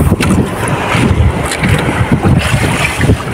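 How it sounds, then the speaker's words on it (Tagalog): Strong northeast monsoon wind, the amihan, buffets the microphone at sea beside a boat, a loud gusty rumble with rough, surging texture and no voices. "Ayan, amihan ngayon sa amin dito."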